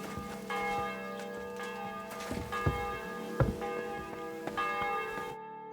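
Church bells peal repeatedly in a medieval village setting from Kingdom Come: Deliverance II, bright ringing strikes layered with long sustained hum, moderately distant and overlapping, with no voices.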